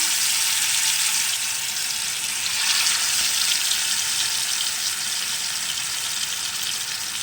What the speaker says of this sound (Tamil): இப்போ நாம் மீனை வந்து பொரிச்சு எடுத்துக்கலாம்.